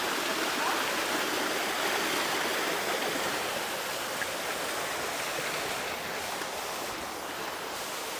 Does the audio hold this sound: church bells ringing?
no